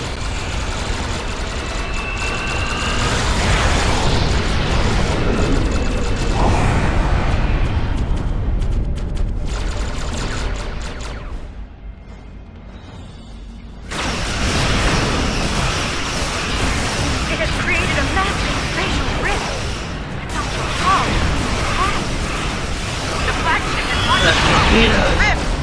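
Dense bursts of weapon fire and booming explosions rage in a Star Trek Online space battle, loud and continuous, briefly dropping away mid-scene before erupting again, with voices speaking over the chaos.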